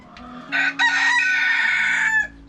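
A rooster crows loudly and close by in one long call, with a brief cluck just before it, among sick, moulting chickens.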